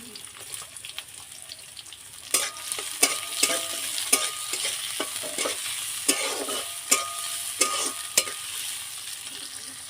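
Chopped onions frying in plenty of oil for dal, a soft hiss at first that jumps to a louder sizzle, with repeated clicks and scrapes of stirring against the pan.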